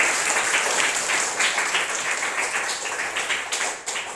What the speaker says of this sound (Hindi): तालियां बजाओ जोरदार